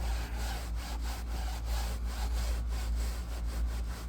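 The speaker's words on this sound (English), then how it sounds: "But now I'll scrub it with my mitt." A mitt scrubbing a car seat: steady, rhythmic rubbing strokes repeating back and forth at close range, fairly faint, with no talking.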